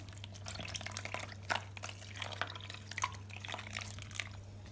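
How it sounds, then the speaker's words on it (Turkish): Cold water trickling and dripping slowly into a bowl while homemade butter is being made, soft intermittent splashes over a steady low hum, close and fairly quiet. "Şimdi ben bu şekilde su ilave edeceğim yavaş yavaş"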